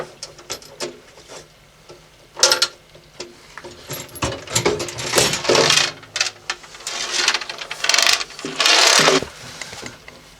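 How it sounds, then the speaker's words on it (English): Team Z Motorsports seat brackets are bolted back down to a car floor. Quick bursts of close mechanical rattling and clicking come in with short pauses between them, and nobody speaks. "bolt the whole thing back to the floor, and be done."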